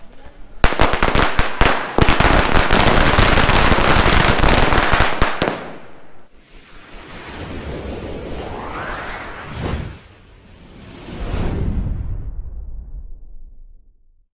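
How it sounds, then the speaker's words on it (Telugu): Firecrackers burst outside a cinema during a film success celebration, a loud dense crackling run of rapid pops for several seconds, then whooshing rockets and scattered bangs, with voices nearby. "టపాసులు టపాసులు చూద్దాం ఒకసారి"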